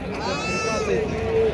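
Sheep bleat in a loud, wavering call at the Lonand sheep market in Satara district, close by, with crowd babble and talk around it.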